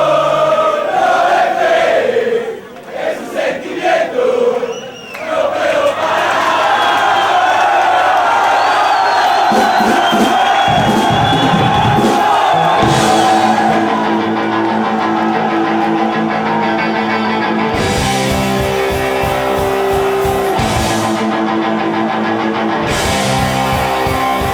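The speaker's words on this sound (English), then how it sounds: "The crowd was so loud, they were packed in like sardines," A packed crowd chants and cheers at the top of their lungs at a NOFX punk bar show in Argentina, a loud, dense roar of many voices that swells into steady, rhythmic group chanting.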